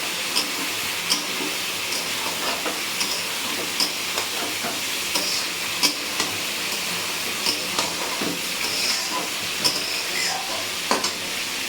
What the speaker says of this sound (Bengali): এই যে ইলিশ মাছের মাথাটা ভাজা বসিয়েছি